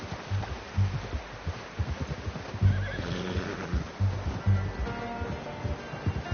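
In Red Dead Redemption 2, a horse gives a couple of whinnies mixed with hoof clip-clops and snorting, close and moderately loud, with no talk.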